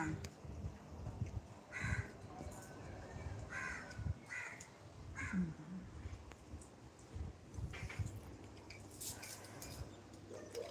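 A crow caws repeatedly in short, hoarse bursts at moderate distance, with faint background noise and occasional low sounds between calls.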